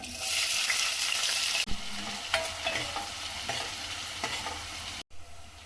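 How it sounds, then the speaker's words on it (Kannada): Cloves, cashews and finely chopped onion fry in hot oil for palak rice, a steady loud sizzle broken by a few stirring scrapes and a brief dropout near the end. "ಮತ್ತು ಒಂದೆರಡು ಲವಂಗನ ಹಾಕ್ತಾಯಿದ್ದೀನಿ ಸ್ವಲ್ಪ ಗೋಡಂಬಿ ಮತ್ತು ಸಣ್ಣದಾಗಿ ಕಟ್ ಮಾಡ್ಕೊಂಡಿರೋಂಥ ಈರುಳ್ಳಿ"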